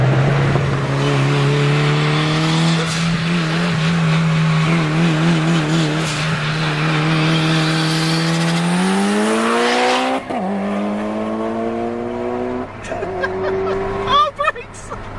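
A Mitsubishi Evo accelerates hard through the gears on a hill pull, its engine note climbing steadily, dropping sharply at a gear change, then rising again, loud and close with a turbo whine on top.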